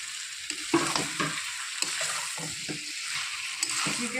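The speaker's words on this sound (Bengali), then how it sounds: "এবার আমি দিয়ে দেবো চিকেন।" Chicken going into a pan of sizzling oil with cooked tomato and spices, a steady close sizzle with irregular stirring and scraping strokes on top.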